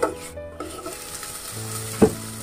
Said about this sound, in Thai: เราคั่วหมูไปกับน้ำพริก